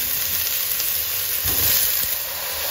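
Oxtail with onion and garlic sautés in a pan, giving a steady, loud, close sizzle with faint stirring bumps underneath.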